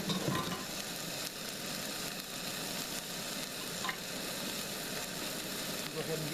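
Drained chili being stirred in a pan on a camper van stove, a steady sizzle with continuous scraping and stirring throughout, fairly close and even in level.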